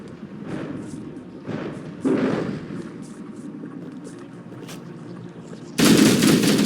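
Rapid gunfire in the Halo: Combat Evolved campaign mowing down Flood enemies, dense bursts of shots with heavier thumping blasts, loud and close, swelling sharply near the end.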